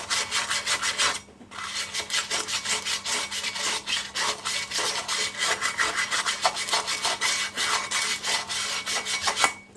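Sandpaper is rubbed by hand across a Honda ATC front brake part in steady, rapid back-and-forth strokes, close and scratchy, with a brief pause near the start.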